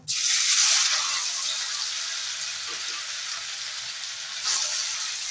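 Loud, steady sizzling of paneer frying in a hot pan, with a burst at the start and a brief surge near the end.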